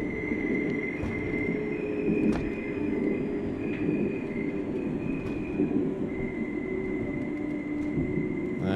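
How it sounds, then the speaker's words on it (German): Schwebebahn suspended train pulling into a station in the OMSI 2 simulator, a steady low rumble of wheels with faint squealing tones and occasional clanks, continuous and close. "Und Einfahrt in den Bahnhof."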